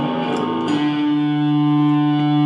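Electric guitar chord through a Fender Mustang I (V.2) amp on its tape delay setting, ringing out loud and close with sustained, slightly distorted tone and soft repeating echoes trailing off.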